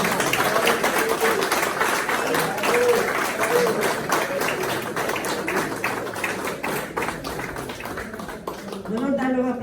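An audience applauds at a tribute event, steady, dense clapping for most of the stretch that thins near the end as voices come in.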